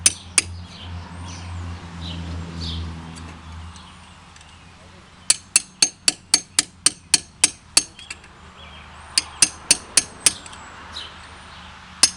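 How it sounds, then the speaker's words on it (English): A low murmur of voices gives way to a rapid series of sharp metallic hammer strikes on a punch driving out a brake caliper pin on a 2010 Dodge Challenger SRT8, about a dozen close blows in bursts. "hammer and punch"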